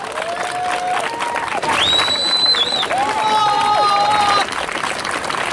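A street crowd watching a limbo fire dance performance in London cheers and applauds, a continuous wash of clapping and shouts with whistles and raised voices over the top.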